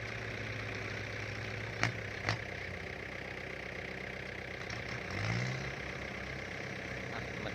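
An L5018 tractor pulls through mud, its engine a low, steady drone at moderate distance, broken by two sharp clicks and a brief swell as the load shifts.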